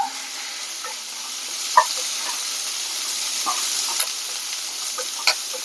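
Sliced onion and curry leaves crackle and sizzle in hot oil, a steady bright frying hiss with occasional light clicks and stirring taps, close up and alone without speech.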